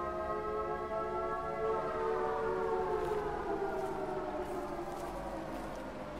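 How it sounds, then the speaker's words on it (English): A wailing siren in the game Life is Strange: True Colors, one long warbling tone slowly sliding downward and sustained throughout, fairly loud and steady with no speech over it. "They weren't supposed to start the sirens until now."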